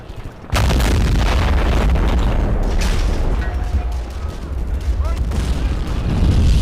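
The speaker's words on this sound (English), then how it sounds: "I've got a howitzer there that's firing a few shots" A video game howitzer fires in a loud, sustained booming barrage with rumbling low-end blasts that barely let up, as a voice talks over the battle.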